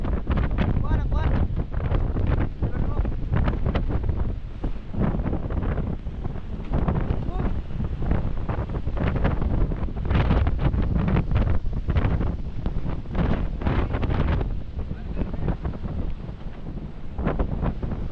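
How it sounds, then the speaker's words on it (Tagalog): Strong Pacific Ocean waves churn around a boat, with heavy wind buffeting the microphone in dense, continuous rumbling gusts and surges throughout. "Kasi malakas yung alon kayo. Ito sa Pacific Ocean."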